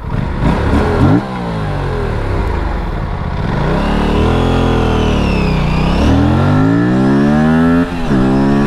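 An Aprilia RS457 motorcycle accelerates hard and lifts into a wheelie in second gear: a loud, close engine climbs through the revs again and again, with sharp drops at several gear shifts.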